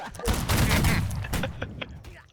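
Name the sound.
ceremonial rifle volley fired on command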